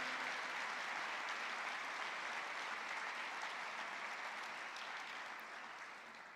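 Steady applause from a large church congregation, sustained and dense, slowly fading toward the end with no voices over it.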